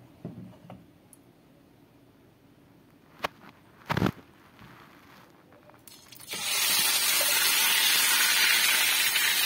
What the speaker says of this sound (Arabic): اول ما الزيت يسخن كويس جدا هنزل بالكبده بتاعتي